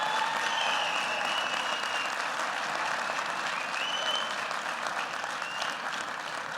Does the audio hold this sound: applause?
yes